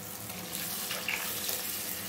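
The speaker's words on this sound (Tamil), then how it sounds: "டிஷ்ஷுக்கு தேவையான தண்ணி சத்துக்குங்க" Water pouring and splashing in a steady stream into a pan of anchovy fish curry, fairly faint, with a light hiss and no talking.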